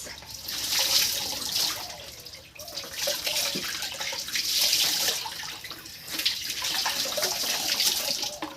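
Water splashes and pours steadily while a child named Ankit is bathed, running in three long surges with brief dips between, close and fairly loud, with no talk over it.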